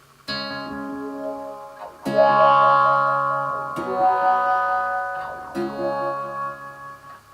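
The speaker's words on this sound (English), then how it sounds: "Let's hear how the wah sounds going into a delay." Electric guitar chords through a wah pedal into a delay ring out in sweeping, vowel-like wah tones, each strum trailing off into echoing repeats, four separate strums spaced a couple of seconds apart.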